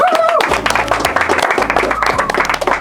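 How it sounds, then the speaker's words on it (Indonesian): Brief clapping from an audience at a student association event follows a closing statement, mixed with talk and a tonal background over a few seconds. "Tepuk tangan."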